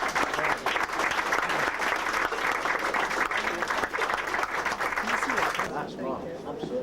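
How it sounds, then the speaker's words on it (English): A room of people breaks into spontaneous applause after the unveiling of a parish map, lively clapping mixed with talk, stopping abruptly toward the end as voices continue. "Spontaneous applause from everybody."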